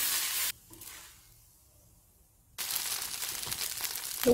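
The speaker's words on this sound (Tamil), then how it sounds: "இதுக்கப்புறம் நம்ம வந்து எப்போதும் போல் தோசை சுட்டு சாப்பிட்லாம் முதல்ல சுட்ட தோசை இது" Dosa batter sizzles on a seasoned iron tawa, a loud hissing fry that cuts out briefly, then returns strongly and steadily.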